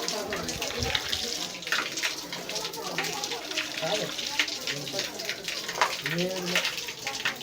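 Cold water streams steadily from the mouth of a Nandi statue at Antaragange temple in Kolar, a continuous splashing trickle close by, with people talking over it.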